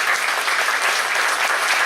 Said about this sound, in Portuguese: Eu queria te convidar a aplaudir essa palavra.